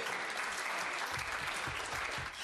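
Members of the UK House of Commons applaud the departing Speaker John Bercow in the chamber, a dense, sustained wash of clapping from many people, loud and even throughout.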